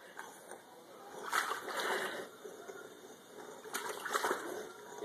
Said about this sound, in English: You are getting water everywhere